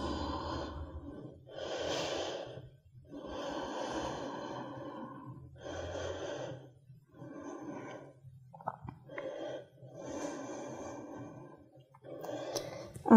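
Long, slow breaths drawn during a winter yoga routine, each inhale and exhale a soft, airy rush lasting about a second, repeating steadily in a quiet room with short pauses between.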